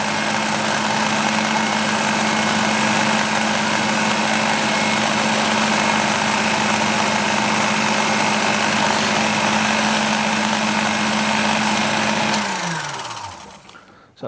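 Drill spinning steadily while spotting a hole in metal for an 8-32 tap, a constant loud mechanical whir with a steady tone, which winds down and stops at the end.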